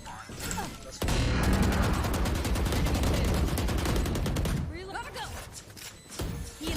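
Gunfire in the tactical shooter game Valorant, a long rapid burst of automatic shots lasting several seconds, with players talking before and after it.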